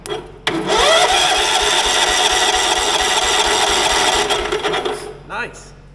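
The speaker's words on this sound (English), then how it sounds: "Engine sounds pretty good." An old Wheel Horse garden tractor, left sitting for years, cranks with a starter and its engine then runs loud and steady for several seconds before cutting out, followed by a short whir.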